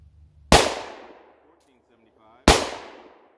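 Glock 20 pistol firing 10mm 155gr XTP handloads: two sharp, loud gunshots about two seconds apart, each with a quick ringing decay, a faint metallic clink in between.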